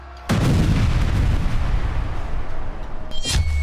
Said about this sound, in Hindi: तीसरा विस्फोट